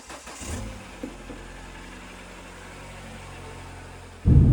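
A car engine turns over and settles into a steady idle, then surges sharply louder at the end as it pulls away, with no talking over it.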